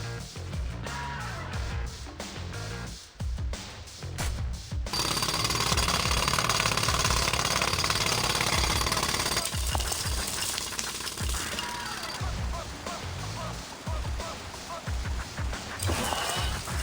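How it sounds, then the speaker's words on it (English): Jackhammer from TMNT: Mutants Unleashed drilling a hole beneath a treatment facility reservoir, a loud sustained rapid hammering that keeps going for most of the stretch, joined by game combat clatter and effects. "I need more time to finish hammering the hole!"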